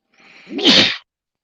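A single loud sneeze, close by, with a short breathy build-up and then a sharp explosive burst before silence.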